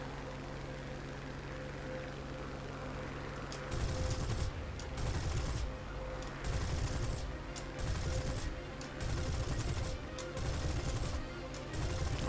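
Machine gun volleys from a Spitfire IIb fighter in War Thunder fire as several loud bursts of rapid gunfire, about a second each, over a steady engine drone.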